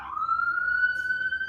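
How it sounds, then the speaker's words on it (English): A siren wails on a street in a town, one steady rising tone held for the whole stretch, fairly loud and close, with no talk over it. "You've got a lot of sirens going on."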